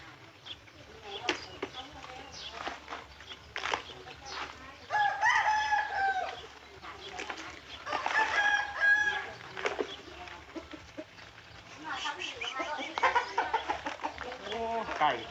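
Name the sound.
chickens clucking and rooster crowing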